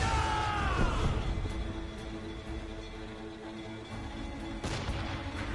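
Heavy cannon fire from a naval battle in a video game, a deep boom at the start decaying into a long rumbling roar, with a second blast near the end.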